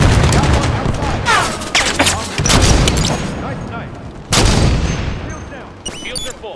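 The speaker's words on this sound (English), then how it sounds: "Grenade out!" Gunfire and grenade blasts in the Halo 5: Guardians multiplayer beta, a dense fusillade of shots broken by loud booms, with a heavy explosion near the middle and more bursts toward the end, voices calling out over the action.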